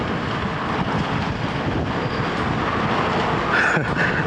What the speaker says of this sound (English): Nice and windy today.